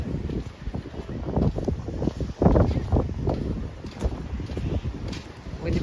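Strong wind buffets the microphone on a sandy beach at Yevpatoria, a continuous rough roar with gusts swelling and dropping, close and loud throughout.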